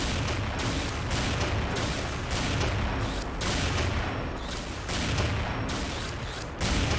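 Sniper rifle fire in the shooter game XSHOT, heard as repeated sharp, loud shots that form a dense, continuous barrage over the whole stretch with no voices.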